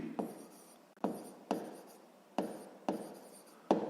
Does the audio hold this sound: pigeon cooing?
no